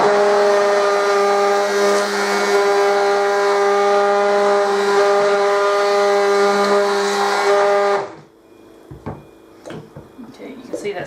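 Loud, steady whir of a stick blender mixing oils and lye into soap batter, a constant motor drone with strong harmonics that runs alone for about eight seconds before cutting off, leaving soft clicks and scraping.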